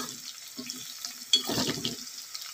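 Fish katar frying in a pan, a soft close sizzle with stirring scrapes and a brief louder burst of crackle partway through, no talking.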